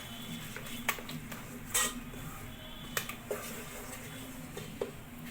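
Abacha salad is stirred after Cameroon pepper goes in, giving faint scattered clinks and scrapes of a utensil against a bowl, a few sharper knocks spaced irregularly over low background noise.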